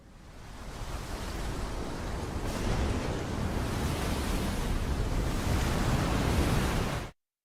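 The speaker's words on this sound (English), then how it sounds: "The storm sound at the end is interesting." Storm noise from the Pokemon Winds and Waves game trailer, a loud, broad roar of wind and surf that swells in the first seconds, holds steady and then cuts off abruptly, with no voices.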